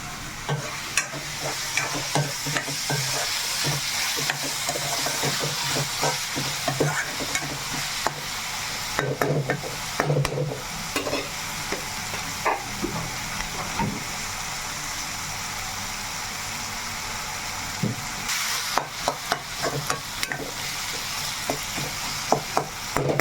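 Tomatoes fry in a pan for a curry of dried anchovies and eggs, giving a steady soft sizzle with repeated scraping stirs throughout, moderately quiet and close.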